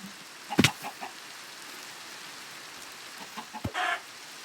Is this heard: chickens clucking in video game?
yes